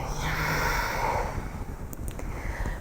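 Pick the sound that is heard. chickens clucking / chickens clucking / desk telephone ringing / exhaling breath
exhaling breath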